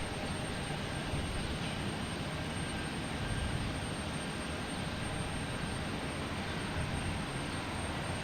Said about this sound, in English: Get this takeoff here first.